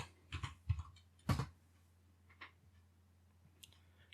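A short search term typed on a computer keyboard, a few sparse, quiet key clicks in an uneven burst over the first second and a half, then scattered faint ticks in a hushed room.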